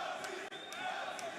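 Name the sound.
crowd cheering for a fighter at an MMA event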